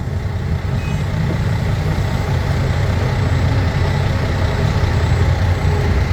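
Ten-wheeler trucks queued at an excavator, their diesel engines idling in a loud, steady, low rumble that holds unbroken throughout, with no voices.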